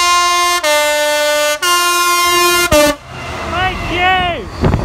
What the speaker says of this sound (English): Sound your horn!